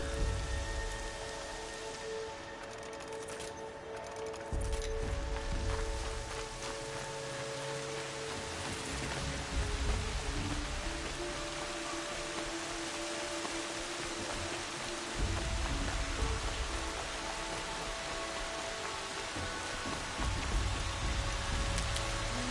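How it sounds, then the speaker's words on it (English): Steady rain falls throughout a Horizon Zero Dawn game scene, a continuous even wash of rainfall on surfaces with no voices. "it's raining like hell, man."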